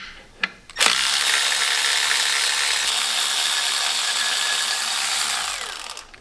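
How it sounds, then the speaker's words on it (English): A hand ratchet loosens 10mm bolts on an engine bracket of a 2007-2012 Dodge Ram with the Cummins 6.7 diesel; a couple of light clicks come first, then a long, steady, close-up run of ratcheting that fades at the end. "Let's go ahead and grab whatever you're going to use, a ratchet or a cordless tool."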